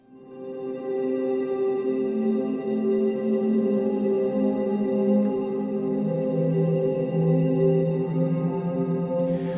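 An electric guitar run through a reverb pedal set fully wet with no dry signal, producing a smooth, sustained wash of blended tones that swells in and hangs steadily without any distinct picked attacks.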